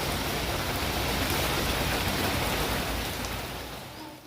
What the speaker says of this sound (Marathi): पाऊस देखील जोरदार चालू आहे